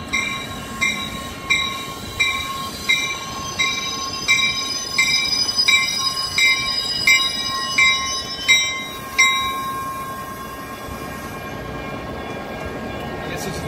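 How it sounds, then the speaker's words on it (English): A train rolls past on rails close by, its wheels clicking in a steady rhythmic beat over rail joints, with a high steady whine and faint squeal above, until the clatter trails off near the end. "Train."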